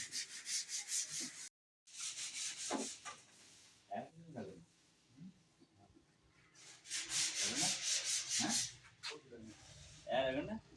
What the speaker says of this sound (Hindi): फेस के ऊपर हो रही है रेग मार